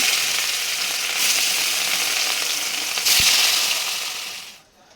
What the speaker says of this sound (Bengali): তারপর এদিকে কড়াইয়ে তেল গরম করতে দিয়েছি, তারপরে মাছগুলো আমি এক এক করে ভেজে নিব